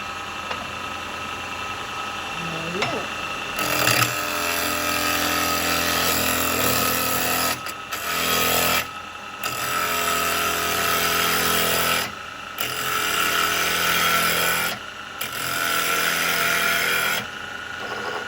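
A woodturning gouge cuts spalted beech on a lathe for a lidded box, producing loud, continuous rasping and whirring passes broken by brief pauses, after a short quieter lead-in.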